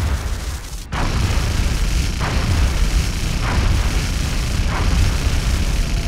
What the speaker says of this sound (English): All right, let's try this Phoenix cannon out.